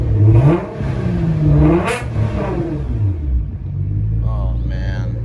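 A Nissan GT-R engine revs hard in several rising and falling bursts, a loud, close, throaty roar that settles into a low rumbling idle near the end.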